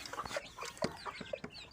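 An Aseel hen clucks in short, soft bursts at close range, a few uneven clucks and chirps with quiet farmyard background.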